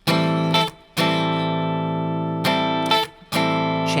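A distorted electric guitar strums a rhythm in sustained chord bursts with short gaps between them, loud and close, with no talking.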